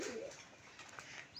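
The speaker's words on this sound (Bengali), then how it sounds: "পায়রার ডাকটা শুনলেই মনটা ভরে যায়" A large domestic pigeon coos softly and close by, a brief low warbling call that is faint and brief against a quiet background.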